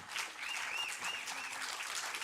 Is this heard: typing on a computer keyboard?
no